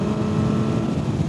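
Motorcycle engine running steadily on a motovlog ride, recorded close from a rider's back-pocket microphone, a continuous low droning rumble with no talk.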